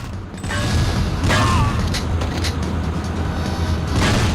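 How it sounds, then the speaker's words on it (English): Wooden crates blow apart in the PS1 game 007: The World Is Not Enough, giving several loud, booming blasts at intervals over a dense, continuous game soundtrack. "Are the crates exploding again?"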